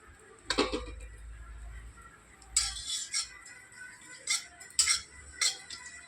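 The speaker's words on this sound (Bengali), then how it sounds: "তো সবার আগে আমি একটু জিরা ভেজে নেব" A utensil stirs cumin seeds roasting dry in a pan, producing sharp metallic clinks and scrapes in irregular bursts, close by with quiet kitchen background.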